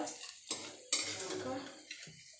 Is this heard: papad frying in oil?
yes